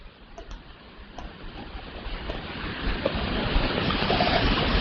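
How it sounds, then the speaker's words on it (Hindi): Fast-flowing river water rushing beneath a bridge near Chiplima, Sambalpur, Odisha, a steady broadband roar that swells louder toward the end, with no talk. "पर जिस स्पीड से ये पानी जा रहा है बिल्कुल मेरे नीचे से"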